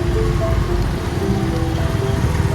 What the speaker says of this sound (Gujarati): ટ્રાફિક વધારે છે આજે.